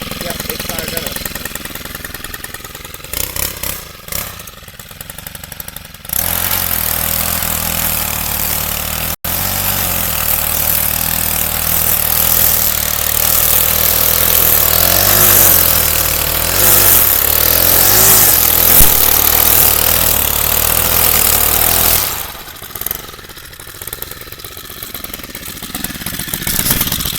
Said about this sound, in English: So let's get the Weedeater cranked up and get it going.